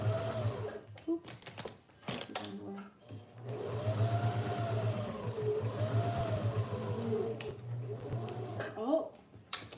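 A home sewing machine stitches in a steady whirring hum with mechanical ticking, running for several seconds after a few stop-start bursts, while a person talks nearby.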